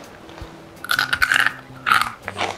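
Roasted spiced chickpeas crunching as they are bitten and chewed, two loud bursts of close crunching with quieter chewing between them, no talk.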